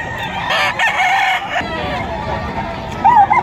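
Gamefowl rooster, a White Kelso line, crowing loudly and close at a busy pre-dawn pet market in Bocaue, Bulacan, with clucks and a second crow near the end over a crowd murmur and voices.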